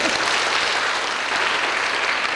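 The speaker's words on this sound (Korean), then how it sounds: "박수 한번 하겠습니다" A congregation applauds during a Korean church thanksgiving service for ordination and a pastor's installation and retirement, a steady, full burst of hand clapping throughout.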